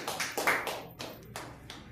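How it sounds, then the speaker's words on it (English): A small Toastmasters club audience gives a brief round of applause, a few scattered close hand claps that quickly thin out. "A big round of applause to all of us."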